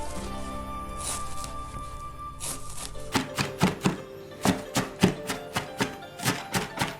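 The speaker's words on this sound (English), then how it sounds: "It just makes it a little bit easier to cut," Knife chopping half-frozen chicken breast for dumpling filling on a board: a steady run of sharp, close chops after a quieter start, about a dozen evenly spaced hits.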